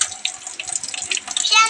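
Water splashes and gurgles from a tap in short irregular bursts, close and fairly loud, with a voice faintly mixed in.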